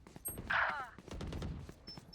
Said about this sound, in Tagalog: Ay, may mga baril doon.